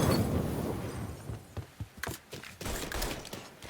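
Gunfire in the Mafia 3 video game: a distant, muffled fusillade under a dense, noisy battle din, then several sharper shot bursts and thuds toward the end.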